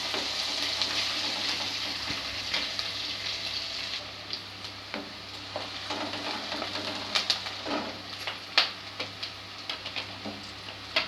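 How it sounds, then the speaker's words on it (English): Peas and other ghugni ingredients sautéing in a hot pan give a steady, fairly loud sizzle and crackle, with scattered sharper pops and ticks coming through toward the end. "Just saute for 2 minutes."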